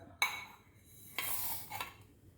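Roasted mustard seeds and fenugreek for ginger pickle are tipped from a pan into a dry mixer jar: a sharp clink, then a longer dry rattling pour and a final clatter. Fairly quiet, with no talking.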